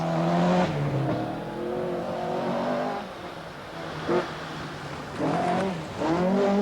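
Rally cars, including an Opel Manta 400 and a Volvo 240 Turbo, power through a frost-hardened, icy special stage of the 1985 RAC Rally, their engine notes swelling and falling as they pass at moderate distance.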